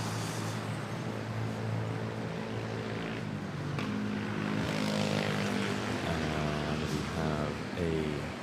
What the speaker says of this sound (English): ATR 72 prop arriving from El Nido, Coron. in Palawan Island.